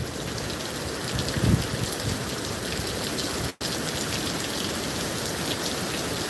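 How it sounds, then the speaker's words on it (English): Cold rain pours steadily during Hurricane Milton, a dense continuous hiss of drops striking surfaces close by, with a brief louder gust or splash near the start and a momentary dropout midway. "That rain is super cold."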